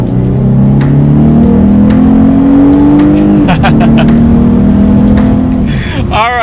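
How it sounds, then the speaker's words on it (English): A 2019 Lexus IS 300 F Sport with a naturally aspirated V6 accelerates hard using paddle shifts, the engine drone climbing steadily then dropping at an upshift, heard loud from inside the cabin. "let's go ahead and test out the acceleration along with the paddle shifters, and we'll see how quickly we can get this naturally aspirated V6 up to speed"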